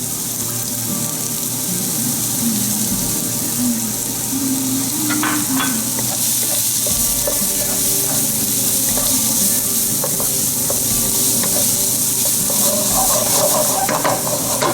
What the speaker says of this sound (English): to this we'll add a finely chopped onion